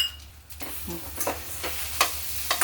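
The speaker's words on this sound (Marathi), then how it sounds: "आता साखर पुरणामध्ये व्यवस्थित मिक्स करून घेऊ।" A spoon stirs a cup of sugar into thick cooked lentil puran filling in a pan, making irregular scraping and squelching strokes over a low, continuous sizzle, with no talking.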